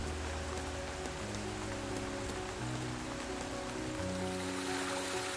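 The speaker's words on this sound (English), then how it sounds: "their combined weight causes them to fall back to Earth as rain." Steady rain falls as a soft, continuous hiss of drops on surfaces, faint and even throughout, with a low musical drone beneath.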